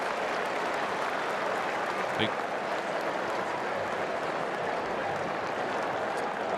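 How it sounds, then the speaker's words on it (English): A college football stadium crowd at Nebraska applauds as a player walks off the field, a broad, distant roar of clapping and crowd noise held steady throughout, with a commentator's voice over it. "the crowd applauds as Thomas Allen walks slowly off the field."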